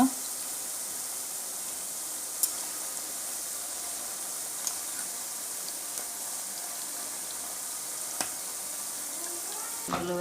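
Evening snacks deep-frying in hot oil, a soft continuous sizzle and bubbling with a few sharp clicks and taps from handling, fairly quiet and steady.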